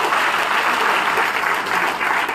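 Steady, vigorous applause from a crowd at a party workers' gathering in Rewa, many hands clapping together in a dense, unbroken roar throughout.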